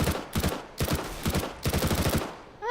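Rapid automatic gunfire in the video game Counter-Strike: Global Offensive, three dense bursts of loud shots with brief gaps between them, and no talking over the firing.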